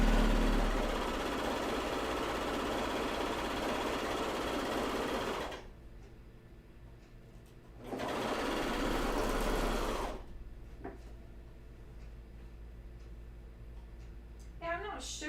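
A serger or coverstitch machine sews underwear slowly in long steady runs, a close mechanical hum that pauses and resumes, with quieter handling noises in the gaps.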